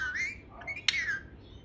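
Pet parrot Dolly gives a short rising whistle, then a sharp squawk that slides down into another whistled note, close and clear in a quiet room, with no talking.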